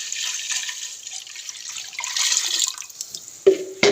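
About one and a half litres of milk poured into a kettle for a milk drink, a steady close hissing pour that ends with a couple of sharp clinks of metal near the end.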